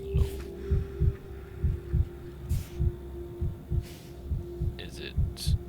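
Low, muffled heartbeat of a patient in the video game Pathologic 3, steady double thumps at a calm, even pace over a faint hum, with a few soft clicks of game sound and no voice.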